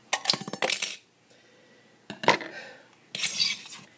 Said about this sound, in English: we'll cut the last piece off with a pair of scissors